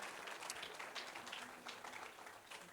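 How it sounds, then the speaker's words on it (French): Audience applause at an event in the Tarn, a faint, continuous patter of clapping heard from some distance without talk. "Sous vos applaudissements, s'il vous plaît."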